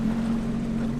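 Sea-Doo GTI 155 jet ski engine idling at about 1800 rpm on the water, a steady low droning hum with a constant tone, close and even throughout with slight wind noise.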